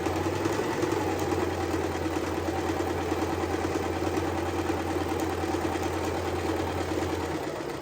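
A sewing machine stitches down a fabric edge while sewing unpaper towels, running in a steady, continuous mechanical hum with a constant motor drone for the whole stretch, without talk.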